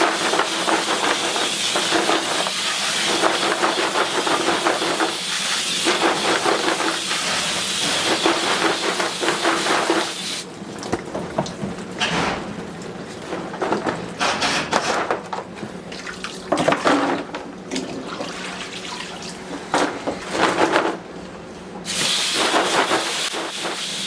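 Water sprays steadily onto carrots on a mesh washing table, a loud continuous hissing rush that breaks into choppier, intermittent bursts partway through.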